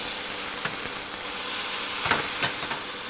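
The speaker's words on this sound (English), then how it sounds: "This is going to deglaze the bottom of this pan, and we're going to be picking up all of this fond." Wine hitting a hot pan after searing filet mignon, the flame off, giving a steady sizzling hiss with a few brief louder spits and stirring scrapes as the fond lifts.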